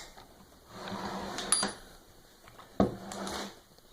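Small metal parts handled during assembly: an M8 screw and metal washer are set in place, with two sharp metallic clicks amid soft rustling handling noise, close and otherwise quiet.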